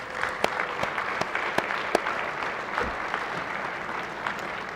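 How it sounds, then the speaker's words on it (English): A Senate chamber full of people applauding steadily, a dense patter of claps with a few sharper individual claps standing out. "let's give them a round of applause."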